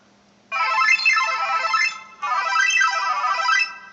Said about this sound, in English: And that's my mom's phone.